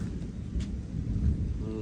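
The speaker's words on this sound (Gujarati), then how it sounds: "વીજ તો નથી થતી પણ ગાજતું બહુ છે" Deep thunder rumbles low and close for a couple of seconds, swelling slightly toward the end.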